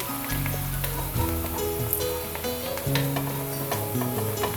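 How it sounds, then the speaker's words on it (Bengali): Chopped onions sizzle steadily in hot oil with torn bay leaves, browning for a Dhaka restaurant-style bhuna chicken khichuri, with occasional stirring over a sustained tonal background. "প্রায় পেঁয়াজটা ভাজা হয়ে গেছে আর একটু ব্রাউন করব পেঁয়াজটা"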